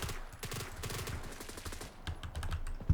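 Rapid bursts of MP9-N submachine gun fire in the shooter game BRM5, quick crackling shots in short strings, fairly quiet and close, with a sharper thump at the end.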